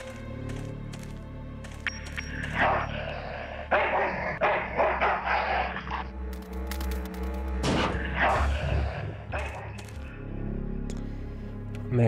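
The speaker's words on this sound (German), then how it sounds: "Also hier lässt mich der Hund nicht ran." A dog barks in the video game Full Throttle Remastered, several sharp barks in bursts over steady music and game sounds, with no talk.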